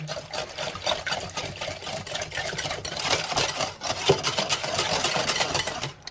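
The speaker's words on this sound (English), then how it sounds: "we're just going to whisk that together until it's nice and smooth and creamy" Whisk scraping through ricotta pancake batter with milk in a bowl, a steady fast rhythmic rubbing and clinking close up, continuous for several seconds with no talking.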